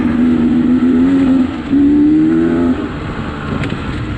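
Off-road vehicle engine grinding uphill in first gear on a rocky canyon trail, a loud steady drone with a sustained tone that dips briefly and then resumes under load, close and continuous.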